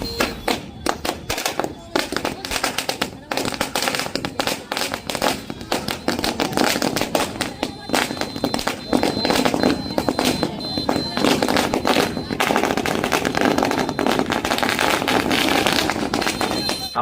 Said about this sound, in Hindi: कई स्थानों पर आतिशबाजी भी की गई